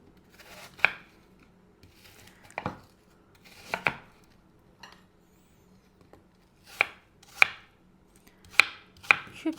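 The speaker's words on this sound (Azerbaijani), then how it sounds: "Küp doğramasını tərcih edirəm. Balaca olsun." A knife dicing peeled vegetables into small cubes on a board, heard as sharp, distinct chops spaced irregularly, some in quick pairs, close and clear with no talk.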